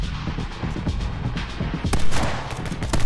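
Sniper rifle fire in the side-scrolling shooter My Friend Pedro: dense, booming shots and impacts amid busy game sound effects, growing louder and heavier in the second half.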